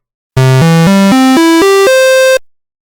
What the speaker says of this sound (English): A square wave, which gives a bright sound